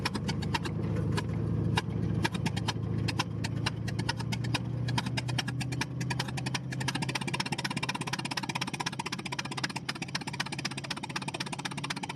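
Old 1926 Ford Model T Touring engine running while the car drives off, a loud rough idle turning into an uneven, sputtering chug with irregular pops, close and continuous throughout.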